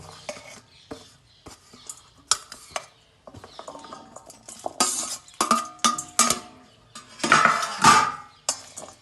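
Green chillies and ginger are tipped into a large pot for pickle, giving a busy clatter of metal knocks, rattles and scraping that builds toward loud bursts near the end, close up and with no voices.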